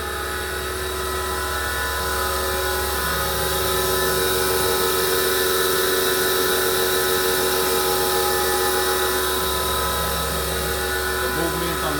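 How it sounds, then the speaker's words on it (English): Haas VF-9 vertical machining center running its axis movements on smooth ball screws, a steady, even mechanical whir and hum holding at a constant loud level throughout, with no voices. "The movements on the machine sound very healthy. The ball screws sound really smooth."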